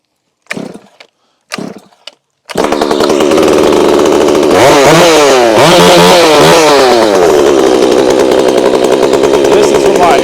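A Stihl MS362C chainsaw starts after a few short bursts, then runs loud and close, revving up and down with a rough, buzzing engine roar that continues steadily to the end.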